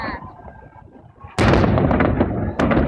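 Victory Day fireworks salute over Voronezh: a distant rumble gives way to a sudden loud booming burst that crackles on, then a second sharp blast near the end.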